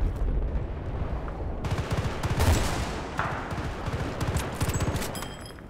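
Loud, continuous automatic gunfire from Battlefield: Bad Company 2 combat, with heavy rapid shots and booming bursts layered together and no clear gaps.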